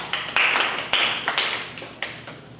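Scattered, uneven handclaps from a small group of K-pop idol members during a tripleS live broadcast, a few sharp claps spread over a couple of seconds, fairly close and not very loud.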